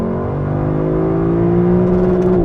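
A 2021 Lexus LC500 engine revs loud and close, its steady droning note climbing slightly and holding before easing off near the end.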